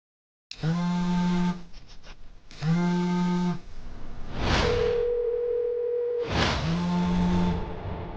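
A telephone handset plays a series of steady electronic call tones, long beeps separated by short pauses, clear and close with no talk.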